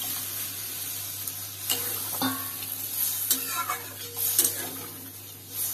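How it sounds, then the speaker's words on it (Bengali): Boiled potato and taro drop into sizzling spices in a pan, producing a steady fry with intermittent stirring scrapes and clatters that grow busier toward the end, close and moderately loud. "আমার মশলা কষানো হয়ে গেছে, এবার এর মধ্যে সিদ্ধ করা আলু কচু দিয়ে দেবো।"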